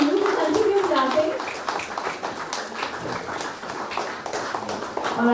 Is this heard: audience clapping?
yes